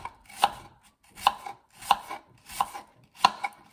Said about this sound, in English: Just slice everything up.